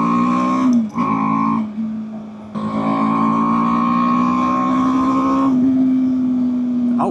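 A 2024 BMW G 310 R, a small 300-class single-cylinder naked motorcycle, droning steadily while ridden, with a brief dip as the rider shifts before the engine pulls on loud and continuous.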